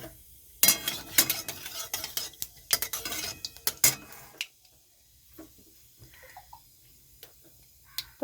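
Nigella seeds (kalo jeere) dropped into hot oil in a wok give a burst of crackling, popping sizzle with scattered clinks and stirring scrapes, loud for about four seconds before easing into quieter, sparse ticks.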